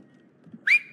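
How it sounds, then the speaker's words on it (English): A single short whistle rises sharply near the end in the video game It Takes Two, clear and close after a near-silent stretch. "Just whistle."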